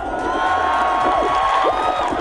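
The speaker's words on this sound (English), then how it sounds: "the crowd at Ames joined the JPL team in celebration" A crowd at NASA Ames cheers in celebration of the Curiosity rover landing on Mars, a dense, steady roar of shouts and whoops with a few rising voices standing out.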